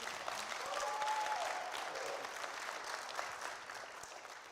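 An audience at a political candidate forum in Manassas, Virginia applauds steadily, a dense wash of clapping from many hands with faint crowd murmur, continuing throughout.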